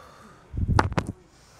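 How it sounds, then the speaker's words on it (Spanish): Deep breaths in and out during the cool-down of a home leg exercise routine, a short soft burst of breathing with a couple of sniffing inhales, alone in a quiet room. "vamos a hacer 5 respiraciones profundas para volver a la calma"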